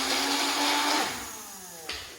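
A blender whirs through hard chunks of turmeric root, carrot and ginger for a smoothie, a loud steady grind that slows and drops in pitch, then ends with a short knock.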